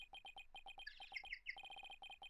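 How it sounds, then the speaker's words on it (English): A penguin-like phone ringtone from the game Ace Attorney Dual Destinies chirps in quick repeated beeps, with a brief burst of higher warbling trills in the middle, heard alone and fairly close. "That's my ringtone."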